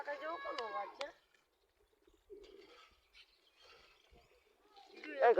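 Soft pigeon coos and brief bird calls, close by and quiet, with short pauses between them.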